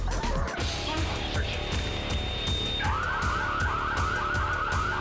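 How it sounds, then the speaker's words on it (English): A loud electronic burglar alarm wailing continuously, shifting to a rapid warbling tone partway through, with clattering movement of a police dog searching rooms in the background. "The burglar alarm sounds as the dog works from room to room"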